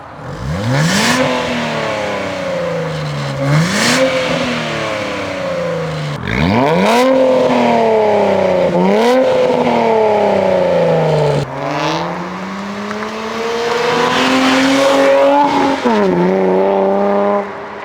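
A turbocharged Nissan Z VQ engine with aftermarket downpipes revs repeatedly through a loud exhaust, pitch climbing and falling in several strong pulls with a raspy, turbocharged tone, close up.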